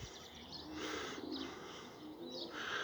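Pigeons cooing nearby in the early morning, soft repeated coos rising and falling over a faint background hiss, with no talking.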